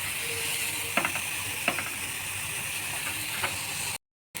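Carrots, other vegetables and boiled noodles fry for chowmein in a pan, making a continuous steady sizzle broken by a few light clinks of stirring, with no talk.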